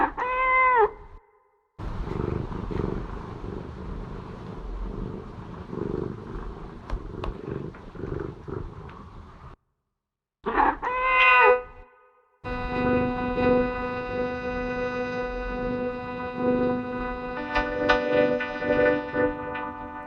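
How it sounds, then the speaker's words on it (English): A recorded domestic cat meows as a short sampled cry, followed by long stretches of the sample run through a vocoder effect unit, producing sustained buzzy, pitched tones with brief silent gaps. "Here's the sample of our cat Sam Sam that we often use in these demos."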